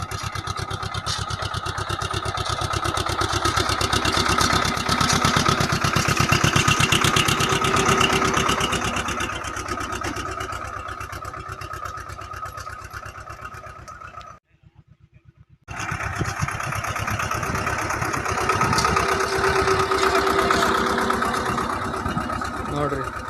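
A 724 tractor engine runs continuously while sowing a pigeon pea field, giving a loud, steady rumbling drone that cuts out for about a second midway before resuming, with a voice speaking over it.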